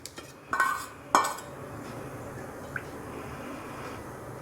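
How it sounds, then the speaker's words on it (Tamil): A pan clanks down onto a stove twice in quick succession, followed by a soft brief splash of cooking oil being poured in, then a quiet steady background hiss. "வானல் வச்சுட்டு தேவையான அளவு நம்ம எண்ணெய் சேர்த்துக்கலாம்."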